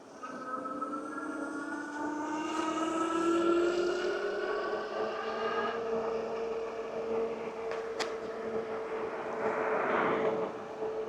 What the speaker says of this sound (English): So I'm getting to listen to that Bafang motor.